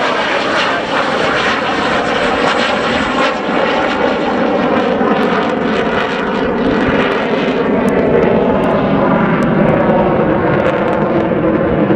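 A French Air Force Dassault Alpha Jet roars through an airshow display at Scampton, its engine noise loud, steady and broadband throughout, with a slowly shifting whine layered over a constant rumble and no talk.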